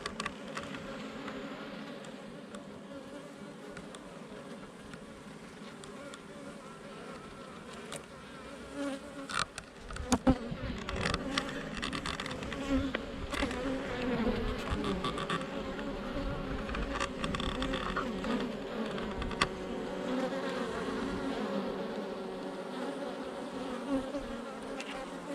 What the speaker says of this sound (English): I'll focus in, just have a closer look in at what's happening and see the bees at work.